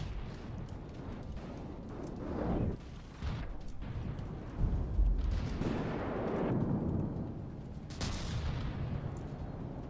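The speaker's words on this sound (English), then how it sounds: "Distant Basilisk out there somewhere." Distant Basilisk artillery fire in a war video game: several muffled, rumbling booms rolling in one after another at low volume, with no talk.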